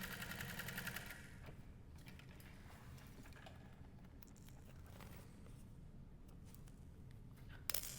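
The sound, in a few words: sewing machine basting handbag seam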